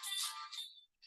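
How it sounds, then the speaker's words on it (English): A mobile phone ringtone plays a bright, high electronic chime, then cuts off, followed by a brief quieter repeat, close and alone. "Oh, that's my phone"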